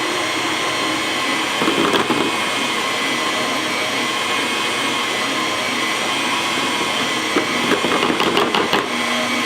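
A stand mixer runs at medium speed, working flour into a yeast dough for cinnamon rolls. It gives a loud, continuous motor whir throughout with occasional rhythmic clunks from the bowl, and no one speaks.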